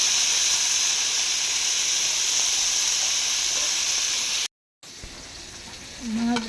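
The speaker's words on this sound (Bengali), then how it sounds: "ওই মাছটা বেশি বড় ছিল, ওই মাছ ভাজা দিয়ে দিলাম" Fish frying in a pan gives a loud, steady hiss and sizzle that runs unbroken, cuts out briefly, then resumes more quietly with a short voice near the end.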